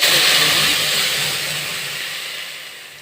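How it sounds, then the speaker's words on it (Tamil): Ground spice paste sizzles loudly in hot oil while cooking a Tamil herbal root soup, a steady broadband hiss that is strongest at the start and eases slightly, heard alone without talk. "நல்லா எண்ணெய் ஹீட் ஆச்சு இல்லையா அதனால தான் இப்படி வந்து சவுண்டு"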